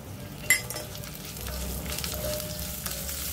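Curry leaves sauté in hot oil in a pan, a steady close sizzle with a sharp crackle near the start and occasional utensil stirs.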